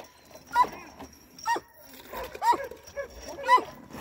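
Sled dogs being fed raw meat in winter give short, repeated whimpering yips at roughly one-second intervals, fairly close but not loud, against a quiet background.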